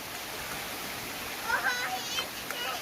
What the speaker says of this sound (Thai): สดชื่นจังเลย มีน้ำตกด้วย